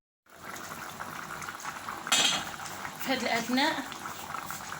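A pot of sauce with sweet potatoes simmers and bubbles softly on the stove, in a Moroccan honeyed sweet potato dish with raisins and onion. Someone speaks briefly over the low, steady bubbling.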